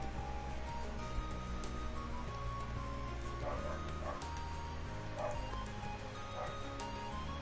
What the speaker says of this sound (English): There's one of the dogs.